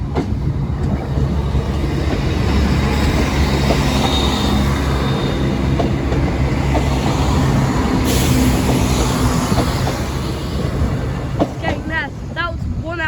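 A train pulls in at Sleaford East level crossing with a loud, continuous rumble of wheels and wagons, wind buffeting the microphone, and a brief high wheel squeal near the end.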